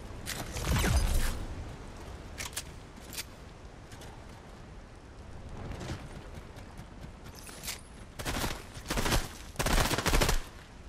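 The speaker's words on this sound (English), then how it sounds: "Somebody shooting at you?" Gunfire in a Fortnite zero-build duos match, scattered bursts of shots at varying distances, some quick rapid volleys, mixed with faint game mechanisms and footsteps over a quiet background.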